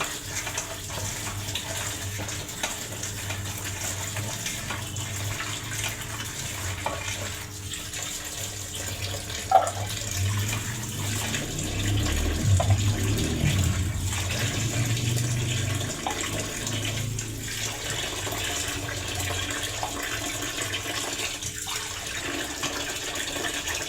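Running tap water pours steadily while something is washed beneath it, a continuous close splashing stream with a few brief clatters and no talking.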